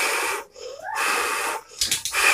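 A person forcefully blows out breath in two to three breathy puffs with short pauses between them, close and clear, as part of a breathing exercise for calming anxiety.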